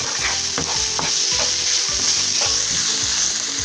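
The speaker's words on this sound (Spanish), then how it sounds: "Vamos a freír este aderezo." A seasoning base with pepper and salt frying in a pan for a chickpea and spinach dish: a loud, continuous close sizzle with regular scraping stirs cutting through it and no voices.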